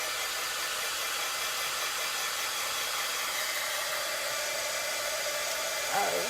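Close, loud hair dryer drying paint on a wooden sign, a continuous airy roar that holds level throughout, with a brief bump of handling noise near the end.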